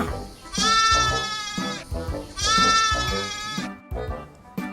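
Two loud, drawn-out bleats from lambs on a farm, close and wavering, with a shorter bleat trailing at the end.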